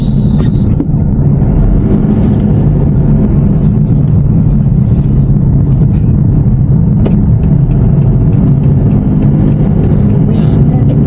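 A car drives along a busy road in Greenland among many other vehicles, heard from inside as a loud, continuous low engine and road rumble with faint passing traffic sounds.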